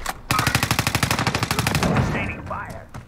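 Automatic machine gun fire in a video game, a loud close burst of about twenty evenly spaced rapid shots that trails off into rumbling echo and faint clatter.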